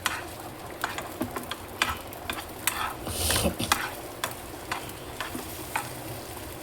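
An egg frying in a pan for egg curry, a soft ongoing sizzle broken by repeated sharp scraping and tapping of a utensil against the pan, with a brief louder hiss in the middle.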